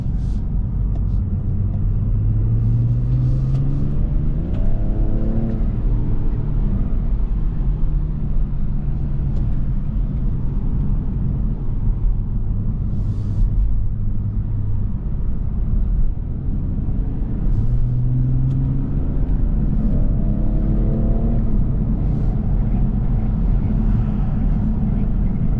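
BMW 545e xDrive sedan driven in sport mode, a steady low engine and road rumble filling the cabin throughout, with a few rising pitch sweeps as the car accelerates and shifts.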